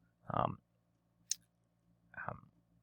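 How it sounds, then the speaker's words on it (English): A single sharp computer mouse click sounds between two short stretches of a person talking, crisp and close. "We're just clicking on here"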